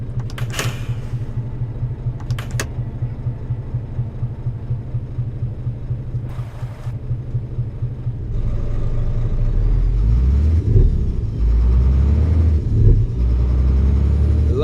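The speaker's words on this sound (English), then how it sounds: "That is a nice sounding engine." Truck engine in Euro Truck Simulator 2 with ProMods: a steady low idle hum with a few clicks at first, then the engine rumble rises and grows louder and rougher as it revs and pulls away.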